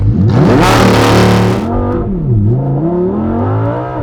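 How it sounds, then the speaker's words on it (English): A 2018 Lamborghini Huracan Performante Spyder's V10 engine revs hard and roars through a launch-control start, then the pitch drops and climbs again as it shifts and keeps accelerating, loud and close. "Does this have launch control? I'll find out. Launch control."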